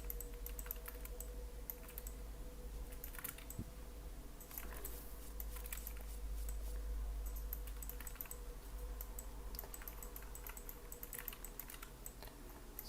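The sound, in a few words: pressing keys on a computer keyboard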